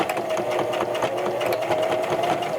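A sewing machine runs steadily, stitching fabric for an appliqué mug rug, a continuous close whirring hum with a faint rapid needle patter, no voices over it.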